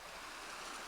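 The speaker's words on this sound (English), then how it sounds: "The waves always inspire me." Ocean waves washing softly in a steady, faint hiss of surf with no distinct breaks, heard alone without voices.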